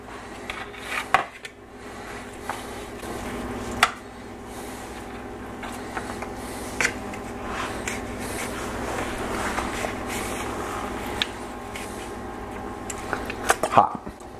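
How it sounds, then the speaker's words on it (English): A knife slices through a resting praline ham on a board, with scattered clinks and scrapes of utensils and dishes and soft squishy cuts. Quiet kitchen sounds throughout, with occasional sharper taps near the end. "I'm gonna grab a knife and cut myself a slice."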